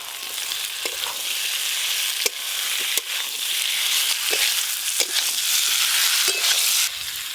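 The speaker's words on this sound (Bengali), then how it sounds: "এবার ভেজে রাখা এঁচড়গুলো দিয়ে দেবো।" Jackfruit pieces, fried earlier, frying in a pan with cumin powder, chilli powder and sugar, giving a steady bright sizzle with periodic scraping stirs and a few sharp knocks of the spoon against the pan, no voices.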